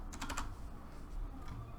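Quick keystrokes tap on a computer keyboard in a brief, fairly quiet burst with no one talking.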